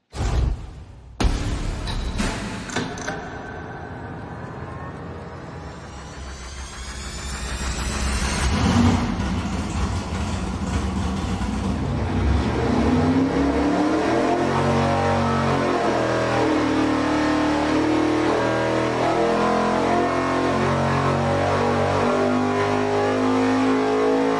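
Race engine under a dynamometer power pull, starting with a startup burst and then climbing in a sustained loud rev that holds near full throttle for the rest of the pull, with no talking.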